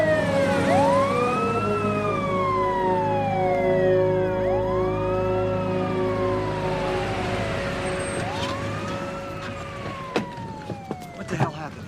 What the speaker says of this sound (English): We need an ambulance.